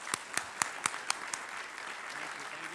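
Audience applause at a National Press Club speaking event, starting as a few sharp, separate claps and then settling into a soft, steady patter heard from a distance.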